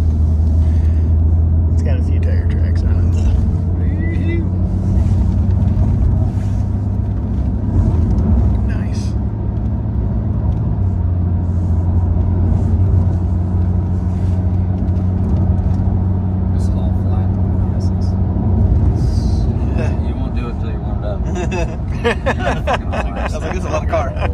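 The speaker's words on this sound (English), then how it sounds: "I like to get back down on the ground and start accelerating" A car accelerating on the Buttonwillow race track, its steady loud engine rumble droning continuously throughout at close range with faint background noise.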